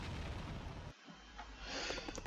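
Bomb explosion in the Serious Sam 2 video game, a loud rumbling blast that cuts off abruptly and gives way to a lingering crackling hiss of debris.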